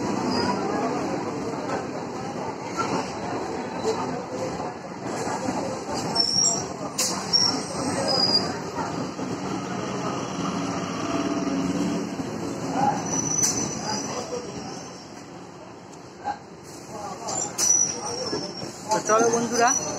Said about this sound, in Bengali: বারুইপুর লোকাল ঢুকছে এটা।